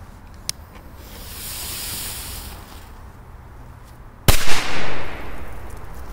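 A powerful firecracker set under a toy truck goes off outdoors with a single sharp, loud bang, followed by a short rushing hiss, after a quiet fizzing fuse and one small click earlier.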